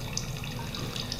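Water pushed by squeezing a bulb into a laboratory gas-collection setup for an equilibrium experiment, a brief continuous gurgling, hissing flow, close and steady.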